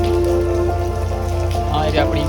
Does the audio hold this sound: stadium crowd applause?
no